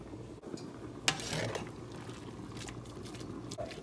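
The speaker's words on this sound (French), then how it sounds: "On remue pour que ça ne colle pas parce qu'on n'a pas mis d'huile" Spaghetti boiling in a pot of water, stirred with a utensil: quiet bubbling under a couple of brief clinks and scrapes against the pot.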